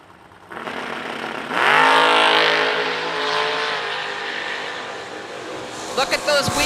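Drag racing cars launch hard at an end-of-year racing event, their engines roaring loud and sustained as revs climb, with an announcer talking over the continuous engine noise.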